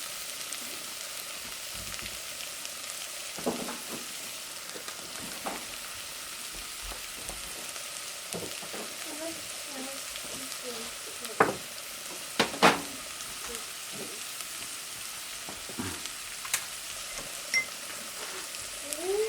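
Eggs fry in oil in a pan for Bengali dim ghugni, a steady close sizzle with scattered pops and a few sharper clicks of a utensil against the pan, no voices.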